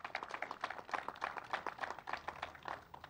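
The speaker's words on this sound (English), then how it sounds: "Let's give the commissioner a round of applause." An audience applauds an agriculture commissioner at a vaccination event, a rapid patter of many hands clapping, fairly faint and even throughout.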